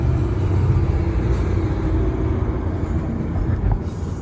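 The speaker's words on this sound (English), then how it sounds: "Another train coming by." A train passing by in a busy area, a heavy continuous low rumble that stays loud and close, with a faint brief squeal near the end and no voices.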